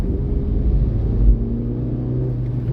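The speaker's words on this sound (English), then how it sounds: "One thing I do quite like about this car is the sound the engine makes." A 2000 Fiat Brava 1.2 16V petrol engine pulls in second gear, giving a steady, loud, low droning rumble with a slight rise partway through and no voices over it.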